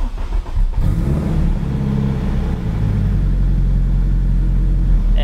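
A 1000-horsepower all-wheel-drive Honda RSX engine starts up and revs, beginning with a sharp crank, then a loud, steady, throbbing idle rumble close by with slight swells.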